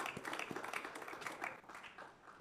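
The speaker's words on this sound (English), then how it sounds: "give our panel a round of applause for their beautiful message today" Audience applause for a panel at a climate conference, a dense patter of many hands clapping at once, faint and distant, holding steady for a few seconds before easing slightly.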